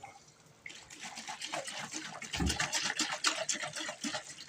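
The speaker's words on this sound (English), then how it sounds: "So add a little water with the rest of it." Water running into a nearly empty pasta sauce container, a steady close pouring and filling sound that grows louder and gurgles as it goes, with no talking.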